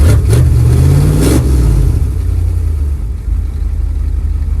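A van engine burning used motor oil runs loud and close, revving up in a couple of surges near the start and then settling into a steady, rough idle, with no talk over it.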